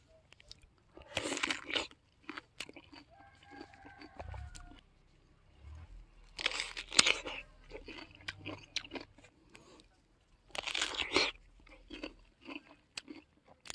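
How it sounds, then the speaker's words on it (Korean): Someone bites into and chews a freshly picked orchard peach up close, in three bursts of wet crunching with quieter gaps between them and faint background sounds. "아까운 복숭아를 지금 간식으로 먹고 있습니다"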